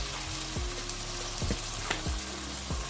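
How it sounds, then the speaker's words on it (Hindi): Okra and chicken fry in oil in a pan, a continuous close sizzle broken by several soft thumps and scrapes of stirring. "इसमें मैं थोड़ा सा और ऑयल ऐड कर दूंगी"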